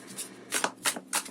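Tarot cards shuffled at close range, several quick riffling bursts in an uneven rhythm, crisp and fairly quiet with no talk.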